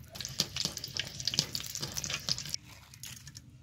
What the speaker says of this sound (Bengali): শুকনো লঙ্কাও একইভাবে ভেজে নেব